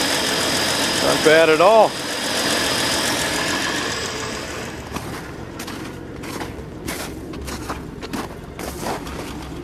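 A car engine that has sat all winter runs roughly, a low uneven idle with irregular pops and knocks, after a brief spoken remark.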